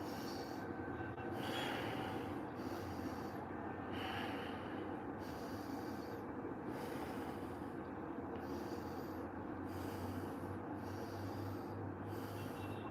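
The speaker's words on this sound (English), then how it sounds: "So inhale, exhale. Inhale, exhale." Slow, rhythmic breaths in and out through the nose during a guided breathing exercise, faint and evenly repeating about every two seconds over a steady background hiss.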